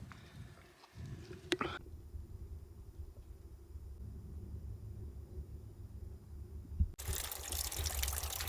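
Water running at a mountain spring on Slide Mountain in the Catskills, a soft steady trickle and flow heard close by, with a sharp knock early on and a louder rushing burst near the end.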